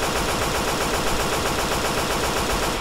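Dense, relentless gunfire from Left 4 Dead 2 while zombies are mowed down: loud, continuous rattling bursts run through the whole stretch with no pauses and no talking.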